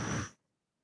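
A short, breathy exhalation in a breathwork exercise follows a double inhalation, close and soft, fading quickly into silence.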